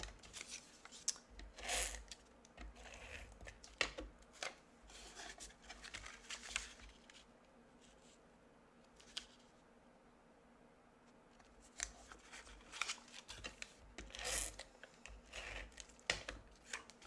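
Card stock is creased and folded with a series of crisp paper rustles and taps, some brief sharp snaps, and a quieter gap midway before the handling picks up again close to the mic.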